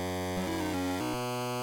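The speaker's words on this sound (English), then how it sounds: "it is a bootleg demake of Portal, and it sounds like this." Chiptune-style music and game sounds from Super 3D Portal 6, a bootleg Portal demake, with bright buzzy square-wave tones shifting pitch in short steps, loud and continuous.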